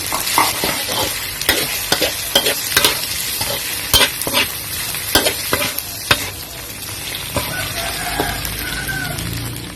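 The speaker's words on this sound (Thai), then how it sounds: "อันนี้เราก็ได้ผัดกะเพรามักกะโรนีแล้วนะคะ" Basil macaroni with sausage being stir-fried in a pan, a constant loud sizzle broken by repeated sharp scrapes and clacks of a spatula against the pan, close up with no talk.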